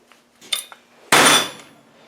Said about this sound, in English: This click ratchet is set at 65.